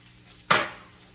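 A brief burst of sizzling as a small splash of sesame oil hits a hot stir-fry pan already slicked with peanut oil, flaring loudly then fading over a second.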